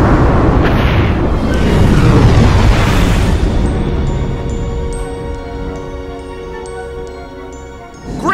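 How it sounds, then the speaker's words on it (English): A planet blowing up in the sci-fi film Lost in Space: one huge, close boom that rumbles and slowly decays over several seconds into a lingering, ringing metallic shimmer. "They make it out before the planet explodes."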